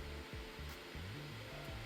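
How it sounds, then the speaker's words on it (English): Steady, loud rushing airflow from a Tesla Model Y ventilated seat cover fan, like a blower or hair dryer, a constant whooshing hiss with faint low thumps underneath. "if I lift my back up off the seat, you can hear even more airflow and more sound"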